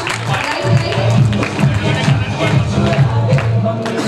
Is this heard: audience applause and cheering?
yes